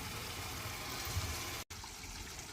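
Water runs steadily from a tap while cleaned mini fish are washed, a continuous close gush with one brief break.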